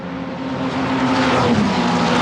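Formula Regional European Championship cars race at Mugello Circuit, a loud sustained engine drone building as the pack heads toward Turn 1, with a steady pitched hum and no talk.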